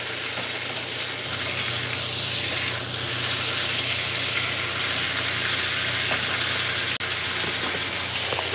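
Steak sizzles and fries loudly in a hot pan, a dense continuous crackle with occasional scraping stirs and one sharp clack near the end, close and without speech.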